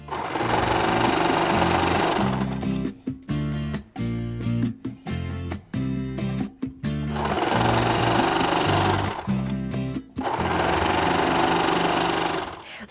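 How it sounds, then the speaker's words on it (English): Serger machine stitching fabric raglan sleeves along a U-shaped seam: steady loud motor whir in three long runs, separated by a stretch of quick stop-start bursts, with no voices over it. "we're just going to take these to our machine and serge in a U-shape"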